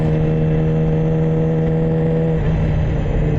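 A Yamaha R6 motorcycle's engine hums loud and steady from the rider's position on a rainy commute, its pitch holding nearly constant with a slight shift near the end and no talk.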